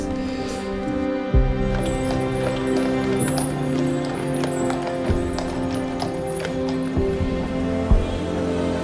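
Horse hooves clip-clop steadily in a rhythmic trot during a cart parade, close and clear, over a tonal musical background.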